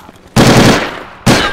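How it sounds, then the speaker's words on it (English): Two heavy bursts of machine gun fire in the WWII strategy game Call to Arms - Gates of Hell: Ostfront, a long loud rattling volley followed by the start of another, close and dominant. "Taking MG fire!"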